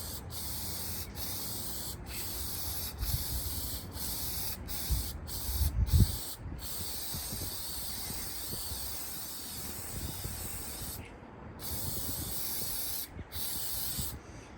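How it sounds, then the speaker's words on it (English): Oil sprays onto the air filter of a CFMOTO UForce 1000 side-by-side during its first service, a close, steady hiss broken by several short pauses between overlapping bursts. "Overlap your sprays, just like so. Don't get any on the rubber"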